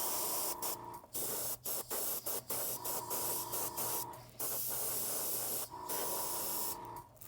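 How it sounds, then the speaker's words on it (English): Spray paint is applied to a Battletech miniature in a rapid series of short hissing bursts, close and loud, with brief gaps between them and a faint tone running beneath. "we're going to try and spray at an angle and get all the dark areas"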